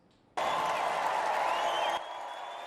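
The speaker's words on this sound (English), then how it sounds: "A roaring crowd greets former U.S. President Donald Trump as he takes the stage" A roaring convention crowd at the Republican National Convention bursts into loud, dense applause and cheering that holds for over a second before dropping to a lower sustained roar.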